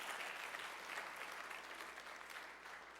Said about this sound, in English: This is where you're supposed to clap.